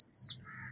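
Short call from a Rampuri pigeon in a loft, a brief squawking coo that rises into a sustained nasal tone, close and moderately loud with no voices.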